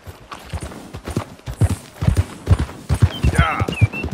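Horse hooves clip-clopping at a steady walking pace in Red Dead Redemption 2, a brindle thoroughbred mare moving over ground, close and fairly loud, with a brief whistling sound near the end.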